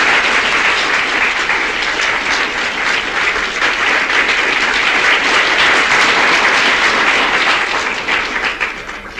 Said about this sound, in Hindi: ताली बजा के दादी का स्वागत करेंगे